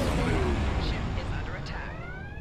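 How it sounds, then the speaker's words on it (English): An area explosion science effect in the Star Trek Online space game: a loud sustained blast with rumbling crackle and whooshing sweeps that slowly fades. "This is the one that is an area explosion."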